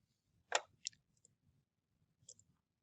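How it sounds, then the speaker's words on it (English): Computer mouse clicks during a software installation, a few quiet, close, crisp clicks with a double click near the start and another pair later, against near silence. "To pursue the installation, I'll click no."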